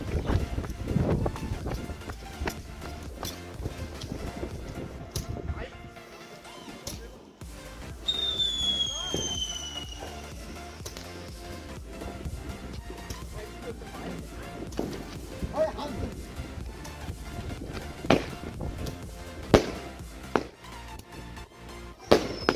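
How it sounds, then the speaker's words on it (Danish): Fireworks on New Year's Eve, Roman candles and a Panther Power firework battery going off, a long run of popping and crackling bursts with whistling rises, moderately distant, mixed with wind and people talking and exclaiming. "Lad være med at skyde fucking romerlys ind foran."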